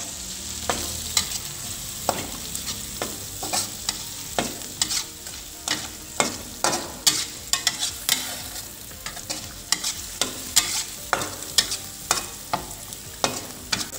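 Blue swimmer crab cooks in curry spices in a pan, a steady sizzle of frying broken by repeated sharp scrapes and clacks of stirring, close and without talk.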